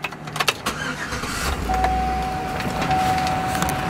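2009 Chevy Avalanche starts up: a few clicks and a short crank, then the engine catches and settles into a steady idle, with a dash chime tone sounding over it, close and fairly loud.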